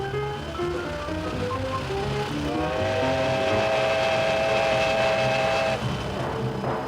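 A Victorian Railways steam locomotive runs along the line with a loud, continuous rumble and rolling clatter, a sustained whistle-like tone rising midway and holding for a few seconds.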